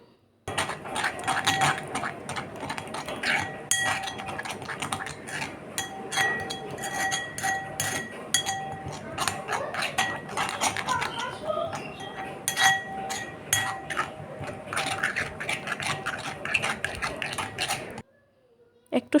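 A spoon works spice paste and a teaspoon of gram flour together in a bowl for a yogurt pointed-gourd curry, making a busy, continuous run of close metallic clinks and scrapes that stops abruptly near the end.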